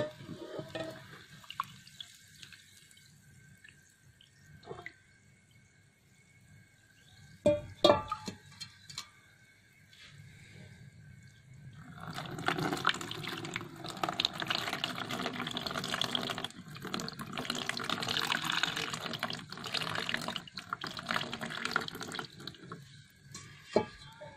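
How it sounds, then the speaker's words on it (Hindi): Cold water poured into a pan while making a mercury tikki, a steady broadband splashing and running-water wash that swells and stays loud through the latter half after a few faint clinks and drips earlier. "अब मैं इसमें ठंडा पानी ऐड करता हूँ।"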